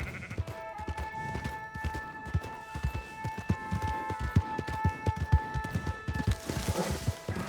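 Horse hooves galloping in the Red Dead Western video game, rapid rhythmic thuds at steady pace, with sheep bleating and a faint tonal background hum.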